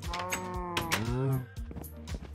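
Cows moo in the Minecraft Hypixel Skyblock video game, a few loud, close drawn-out lowing calls in quick succession, the middle one longest, with no talk over them.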